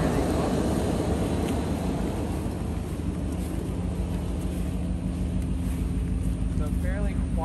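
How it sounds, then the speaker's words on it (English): A 2UZ V8 swapped into an 80 series Land Cruiser idles steadily, a low, even engine drone held close and continuous, with faint background noise and no voices. "So fairly quiet when it's just idling"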